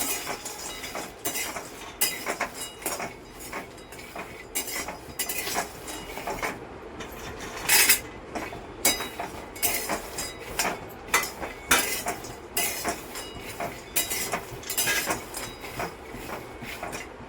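Peanuts, already roasted once, rattle and scrape again in a dry pan, a steady run of rapid clicking and clattering strokes as they are stirred, fairly quiet and with no voices.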